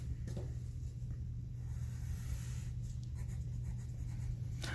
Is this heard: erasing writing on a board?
yes